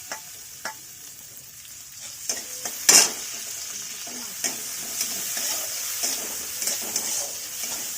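Chopped onion dropped into a hot pan of oil for a pointed gourd and prawn dish, a loud burst of sizzling followed by continuous frying with intermittent spatula stirring taps.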